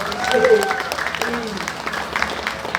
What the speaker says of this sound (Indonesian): Tepuk tangan dengan sarang-sarang.